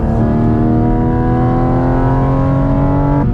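Loud, steady roar of a Porsche GT4 RS engine on a mountain pass road, its pitch climbing slowly under sustained acceleration and cutting off sharply at the very end.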